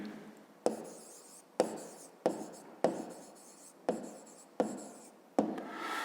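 Pen or marker strokes on paper as a maths answer is written down, seven sharp scratchy onsets each trailing off into a brief rubbing stroke at a steady rhythm, close and clear with no talking.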